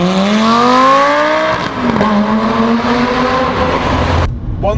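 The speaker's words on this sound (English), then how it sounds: "the main improvement that the Gallardo had was the butterfly valve exhaust system" A Lamborghini Gallardo Spider with a butterfly-valve exhaust revs hard. The loud, rising engine note climbs, dips and climbs again over several seconds before cutting off abruptly near the end.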